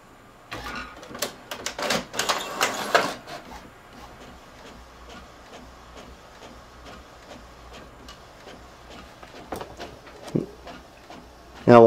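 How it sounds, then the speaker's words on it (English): Printer starting up and printing a document sent from an Android 4.4 KitKat phone, with a burst of whirring and clattering followed by quiet rhythmic mechanical ticking, close by. "So we'll go ahead and hit print here, and bingo, it's starting up."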